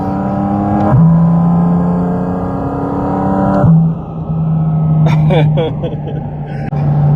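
A Porsche 718 Cayman GT4 RS engine hums loudly and steadily as the car accelerates, with a gear change and a pitch step, under faint speech toward the end.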